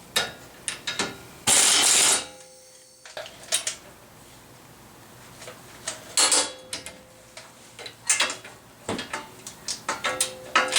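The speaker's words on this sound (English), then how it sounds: "I'm just going to snug it up with my impact." Short rattling bursts from an impact wrench snug up the front strut fasteners on a Honda Civic, two or three loud hits separated by quieter clinks and ratchety tool handling nearby.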